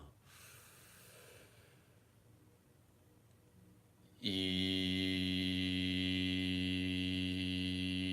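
A deep breath drawn in during a guided meditation, soft and airy for about four seconds, then a loud, steady harmonic drone takes over and holds to the end.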